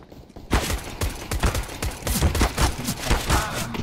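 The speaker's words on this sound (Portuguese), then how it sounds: "você tá dando um tiro no cara, Zé" Rapid bursts of video game gunfire crack in quick succession after a brief quiet start, dense and loud, like a sustained firefight.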